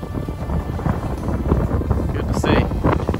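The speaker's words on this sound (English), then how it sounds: "Sorry about the wind" Wind buffeting a microphone outdoors at a ranch, a loud, rumbling, gusty roar that dominates throughout, with possible faint voice-like sounds underneath.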